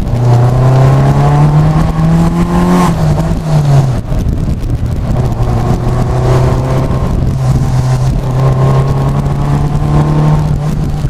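A Lotus Elan Sprint accelerates hard on the road, its loud engine note climbing in pitch, dipping briefly at a gear change around four seconds, then pulling up again, with no one speaking.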